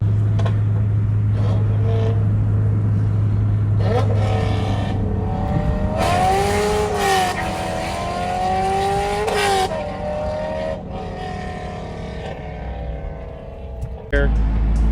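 A Corvette C5 Z06 sports car engine rumbles loudly nearby, revving up and down with rising and falling pitch as the car drives.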